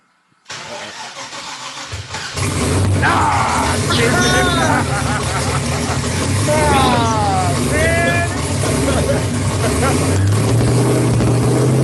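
A car engine starts inside a closed garage, cranking briefly before catching and settling into a loud, steady running roar that fills the space, with voices talking over it.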